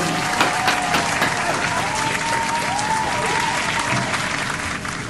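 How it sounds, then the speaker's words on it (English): Studio audience at a late-night talk show applauding and cheering for arriving guests, a dense, continuous wall of clapping throughout with faint voices mixed in. "Please give a round of applause for Bo and Sam."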